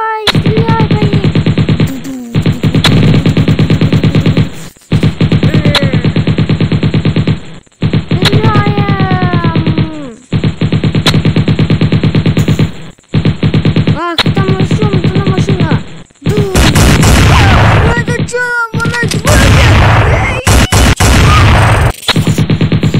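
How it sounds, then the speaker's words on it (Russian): Rapid bursts of automatic gunfire from the video game Chicken Gun, loud and sustained in long rattling volleys separated by brief gaps, with whooshing effects and heavier blasts toward the end. "Давай, стреляй по ним."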